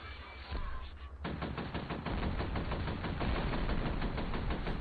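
Rapid automatic gunfire in the shooter game F.E.A.R. Extraction Point, starting after a brief pause and then running as a dense, continuous burst of loud shots that carries on to the end.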